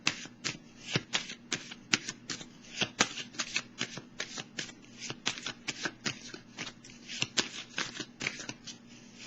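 Tarot cards being shuffled by hand during a reading, a steady run of quick, crisp riffling flicks repeating close to the microphone for the whole stretch with no talk over them.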